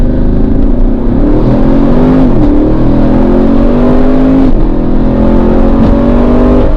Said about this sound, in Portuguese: Vamos lá para o controle de largada, pisando tudo no freio, acelerando e...